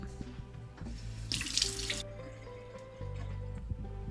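A bell pepper is rinsed under a running kitchen tap, with water splashing steadily into the sink and a louder burst of spray partway through, then a continuous flow to the end.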